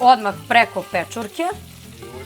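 Pipi salami sizzles in a frying pan on top of mushrooms, a soft crackle mostly beneath a person speaking close by.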